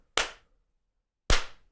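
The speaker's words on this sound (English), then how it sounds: "So we have to clap again" Two sharp, loud hand claps about a second apart, each crisp with a short decaying tail, used to sync camera and audio, with silence between them.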